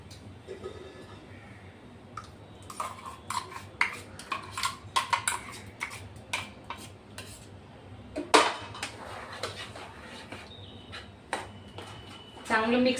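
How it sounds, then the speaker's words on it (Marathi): Moong dal dhokla batter with semolina and yogurt is whisked in a bowl in one direction, giving irregular light clinks and taps against the bowl while a voice speaks. "एकाच साइडने एकाच डायरेक्शन मध्ये असं फेटायचं आहे बघा"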